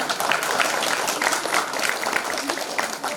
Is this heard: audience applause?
yes